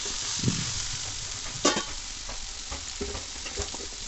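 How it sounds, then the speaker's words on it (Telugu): Okra and peanuts fry with turmeric in a pan, with a continuous close sizzle and a few scraping stirs, one sharper clack partway through, and no voices. "కొంచెం పసుపు, వేసి కలుపుకోవాలి"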